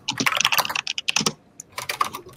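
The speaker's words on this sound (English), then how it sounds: "That's a lot of loud typing" Loud, rapid typing on a computer keyboard clatters in close bursts, with a short pause midway before the keystrokes resume.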